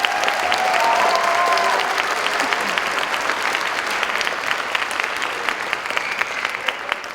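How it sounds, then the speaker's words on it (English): Dense audience applause for a high school band at a winter concert, strong and sustained, thinning slightly toward the end with individual claps standing out, a faint tonal hum early on. "So a round of applause one more time for these kids."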